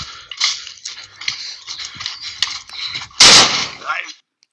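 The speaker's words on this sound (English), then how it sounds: "You can see live gun battle." Gunfire in a live gun battle in Ambazonia, Cameroon, sounds as scattered sharp cracks amid shouting, ending in one loud close blast near the end before the sound cuts out.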